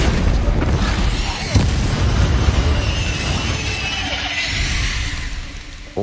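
Spell explosions in the Hogwarts Legacy video game, a steady roar of blasts and rumbling bursts that runs without a break, with a sharper crack near the end.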